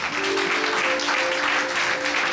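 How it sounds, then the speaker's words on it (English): Congregation in a church service breaking into another round of clapping, many hands beating in a continuous, fairly loud patter over a held keyboard chord. "Clap for Jesus again."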